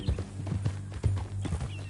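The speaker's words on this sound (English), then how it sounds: "That a new horse?" Horse hooves clip-clop at a steady walking rhythm in the Red Dead Redemption 2 video game, close and fairly soft, with a low hum running beneath.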